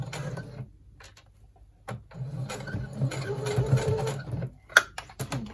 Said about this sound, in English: I'm just going to backstitch.